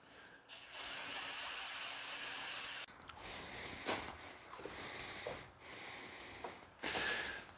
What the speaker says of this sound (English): Rust converter spray.